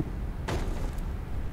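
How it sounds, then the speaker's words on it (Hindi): A single dull, heavy thud, like a fist striking a door inside a horror video game, lands once against a constant low rumbling background. "कोई दरवाजा पीट रहा है इधर"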